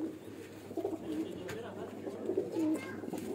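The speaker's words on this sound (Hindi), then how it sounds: "ये पिपला वाले कबूतर हैं" Pigeons on a rooftop coo softly and repeatedly at close range, low throaty calls rising over a faint background murmur.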